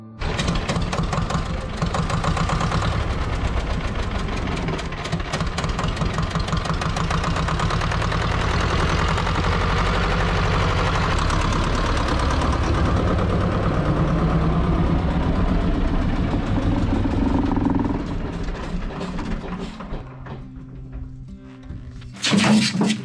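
Engine of a Vladimirets T-25 tractor runs loud and close during field fertilizing, a steady knocking diesel chug that holds, then drops off near the end with a few clunks.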